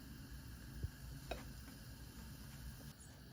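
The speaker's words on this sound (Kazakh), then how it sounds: "Қызып тұрған тауаға майсыз пісіреміз." A pancake fries in a hot, oil-free pan with a soft, steady sizzle, broken by a few faint clicks and a light utensil tap.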